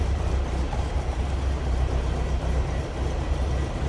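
A 1957 Cadillac Series 62 Coupe idles steadily, heard from behind at the exhaust as a constant low rumble with no changes in pitch or level.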